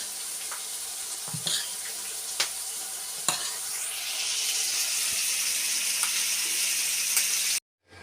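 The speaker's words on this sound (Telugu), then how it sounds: "దోశలు అయితే వేస్తున్నానండి" Dosa batter cooking on a hot pan, a continuous bright sizzle that swells partway through, punctuated by a few light scraping clicks of a utensil, with no voices and an abrupt cut at the end.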